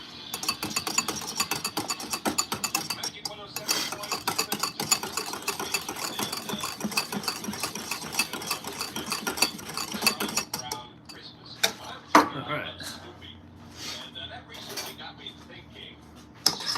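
Hollandaise-style sauce for eggs Benedict is whisked by hand in a bowl, giving a rapid, continuous metallic clatter of wire against the bowl that stops for a moment, then resumes in slower, scattered strokes.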